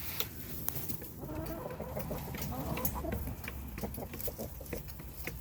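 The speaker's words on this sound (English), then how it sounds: "You are a good rooster." A rooster and several hens cluck continuously at bedtime snack time, busy overlapping calls close by over a steady background murmur.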